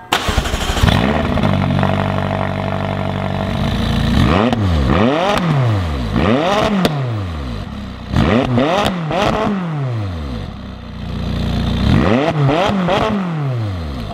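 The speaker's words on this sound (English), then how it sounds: "give you guys a little exhaust clip so you can hear how it sounds like with stock downpipes and stock exhaust" A McLaren 570S engine with stock downpipes and stock exhaust revs repeatedly, rising and falling in sharp bursts over a steady idle, loud and close, with exhaust crackles between pulls.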